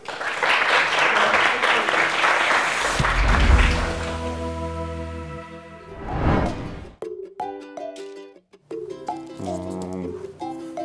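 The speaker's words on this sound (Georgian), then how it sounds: "აპლოდისმენტები თავისუფალ უნივერსიტეტს და გუნდს Invictus." An audience claps loudly for the FreeUni team Invictus at a student book quiz show, a dense burst of applause lasting about three seconds before it gives way to a sequence of tonal music cues.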